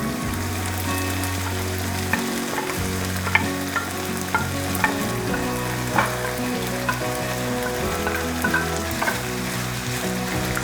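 Peppers sauté in a hot pan with caramelized onions and garlic, a continuous close sizzle broken by repeated scrapes and stirs of a utensil, with no talk.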